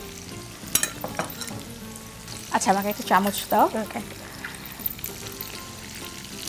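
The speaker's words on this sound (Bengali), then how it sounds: "আমাদের উইংসটা ভাজা হোক" Spicy chicken wings frying in a pan give a low, steady sizzle with occasional clinks, and a person speaks briefly over it in the middle.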